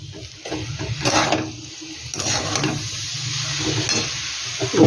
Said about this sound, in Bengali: দইটা লবণ দিয়ে আমি নেড়ে নিচ্ছি।